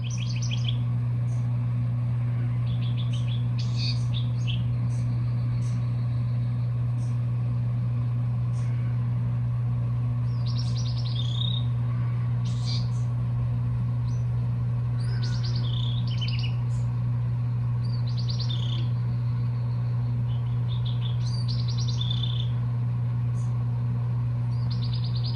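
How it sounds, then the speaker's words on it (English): A bird sings outside a window, giving short bright chirps in scattered clusters. The song stays faint against a steady low indoor hum and distant traffic rumble. "Stopping to enjoy that bird, like hearing it outside my window,"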